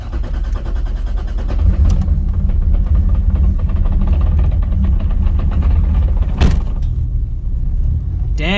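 A car with a twin-disc clutch chatters as it runs, a loud, continuous low rumble and rattle that holds steady throughout, with a brief sharper knock near the end.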